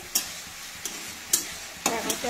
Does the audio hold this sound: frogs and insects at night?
no